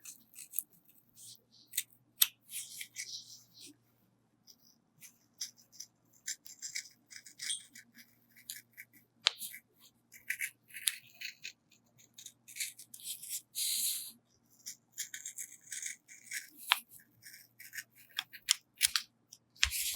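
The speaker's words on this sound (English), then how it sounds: "you keep the scissors in one place and you turn" Repeated crisp snips and rustles of scissors cutting through felt, close and quiet, in irregular bursts with pauses between.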